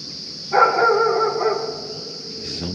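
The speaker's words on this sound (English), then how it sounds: "I just heard a dog barking over there." A dog barks somewhere in the distance for about a second, over a constant high insect-like drone, in Kentucky woods near houses.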